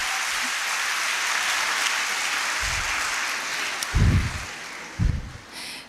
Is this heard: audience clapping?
yes